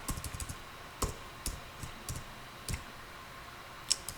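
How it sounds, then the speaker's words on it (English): Typing on a computer keyboard, a quiet scattering of irregular light clicks and key taps at close range, with no voices. "let's type something here"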